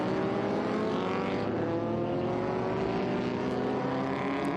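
Vintage race cars, including a Jaguar XJS and a BMW 635 CSI, pass on the Circuit of the Americas track, their engines droning loudly and continuously with shifting pitch as the pack files by.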